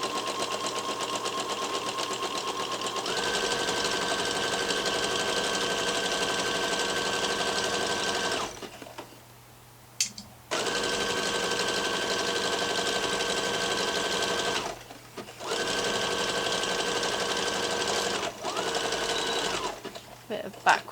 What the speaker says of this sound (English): Bit of backward stitching at the start and finish just to secure the seam